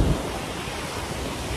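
Ocean surf at Nai Harn beach on Phuket, a dense broadband roar of breaking waves, loud and continuous for a brief moment with no voices.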